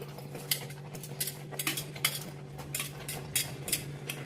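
Cooked pasta being mixed in a pan with a utensil, giving a series of close, irregular scraping and clinking strokes over a low steady background hum.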